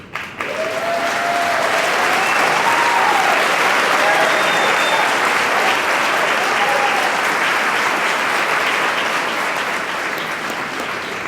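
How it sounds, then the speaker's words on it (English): Audience applause at an award ceremony, a loud steady wash of many hands clapping that lasts throughout, with some cheering voices faintly mixed in. "I'm going to assume those applause are for Mr. Hubbard."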